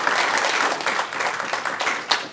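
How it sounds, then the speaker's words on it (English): A round of applause from people at a Lee's Summit city council meeting for police partners, brisk and continuous clapping from a modest room of hands, close and lively for a couple of seconds. "if we could give them a round of applause"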